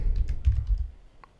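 Fingers tap out a command on a computer keyboard, a few quick, close clicks over a low background rumble, fading near the end.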